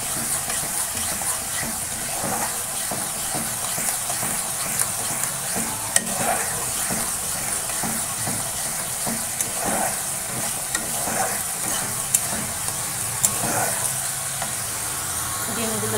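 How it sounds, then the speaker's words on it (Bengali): Eggs sauté in a pan of spiced masala in a Bengali home kitchen, a steady sizzle under repeated scraping strokes of a spatula at a slow, regular rhythm, with faint clicks along the way. "এবার কষে ডিমগুলোকে ছেড়ে দেবো"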